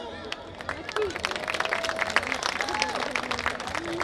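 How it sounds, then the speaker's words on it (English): An audience at a Mother's Day celebration claps after a dance performance, scattered and uneven hand claps rising under lively chatter and voices in the room. "Please, we need a bigger applause"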